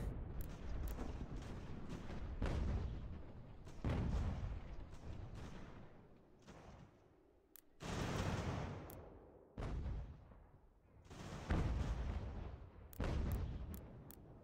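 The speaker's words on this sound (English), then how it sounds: "Beautiful, beautiful canister shot." Cannons firing canister shot in the Ultimate General: American Revolution video game during a fort siege, a series of heavy booming discharges with rumbling decays, some close together and some spaced out, fairly loud and without voices.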